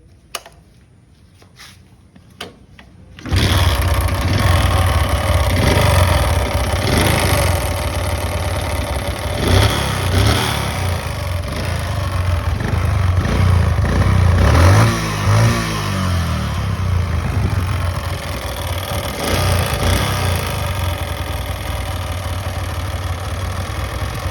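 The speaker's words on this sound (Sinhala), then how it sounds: "මෙන්න මේ මම ප්ලේ කරන වීඩියෝ එකේ එන්ජින් එකේ රොඩ් එක ගිහිල්ලා තියෙන්නේ" A vehicle engine with a failed connecting rod starts after a few quiet seconds and then runs loud and close, with a steady, rough roar and recurring clattery pulses throughout.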